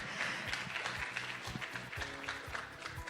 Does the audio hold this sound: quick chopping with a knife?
no